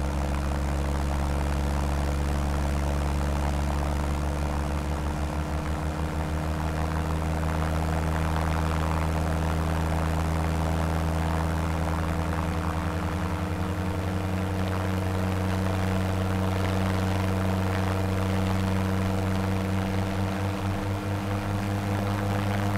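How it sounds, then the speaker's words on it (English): Schweizer S300 helicopter engine running in Microsoft Flight Simulator, a steady loud droning hum with a low rhythmic throb that holds unchanged throughout. "Once the engine gets going, it's actually got quite a nice purr."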